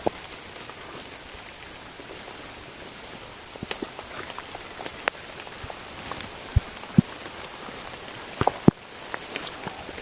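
Rain falls steadily on the Mount Arjuno trail, a dense, even hiss with scattered close drips and taps striking nearby surfaces.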